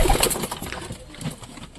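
Pigeons in a coop give short, close, soft cooing calls over low background rustle.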